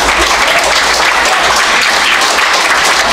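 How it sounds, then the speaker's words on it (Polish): An audience applauds loudly at a school year inauguration ceremony in Andrychów, Poland. Dense, uniform clapping fills the moment from start to finish. "Wielkie brawa."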